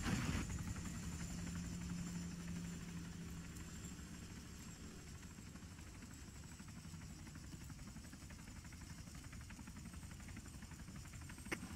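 A helicopter engine in the military video game Arma 3 drones as a low, steady rotor hum with faint high whine, fairly quiet and continuous, with no voices over it.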